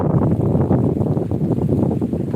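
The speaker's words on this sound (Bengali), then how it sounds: "প্রচণ্ড বাতাস" A strong wind blows outdoors, buffeting the microphone with a loud, continuous low rumble that stays steady throughout, with no other sounds standing out.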